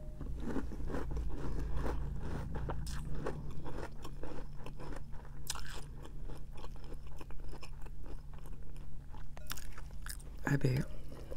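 Crunchy Christmas cereal is chewed right at the mic, in a steady stream of close, crisp crunches and mouth sounds with a constant hum behind it.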